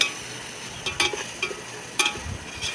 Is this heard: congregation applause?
no